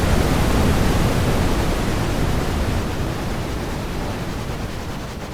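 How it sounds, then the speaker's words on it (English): Steady rushing water from a waterfall in a video game forest, a loud broadband roar that holds for the whole stretch and eases slightly toward the end, with no talk over it. "I love that waterfall."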